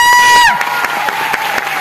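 A seminar audience bursts into loud clapping and cheering, a brief dense roar of hands and voices that stays steady to the end, opening under a high whistle-like tone.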